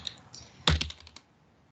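A short burst of typing on a computer keyboard: a few soft clicks, then a quick cluster of keystrokes close and quiet, with no voices.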